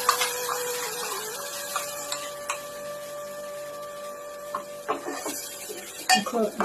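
A spoon mixes spice paste into ghee in a pan, making scattered scrapes and clinks that grow busier toward the end, over a steady tonal hum. No talking.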